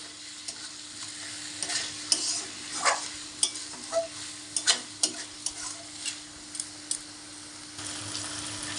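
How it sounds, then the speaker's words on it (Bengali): Chicken frying with spices in a pan, a steady sizzle broken by repeated scraping stirs at an uneven rhythm, heard up close with no talking. "এরকম ভালো করে চিকেনটাকে ভালো করে কষে নিতে হবে 10-15 মিনিট মতন।"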